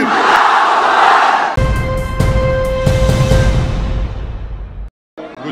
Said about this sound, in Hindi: नारा लगाइए मेरे साथ, नारे तकबीर, नारे तकबीर